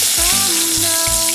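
Pakoras fry in oil over an outdoor stove at a windy picnic, with a loud, dense sizzle mixed with gusty wind noise and a few low, brief knocks.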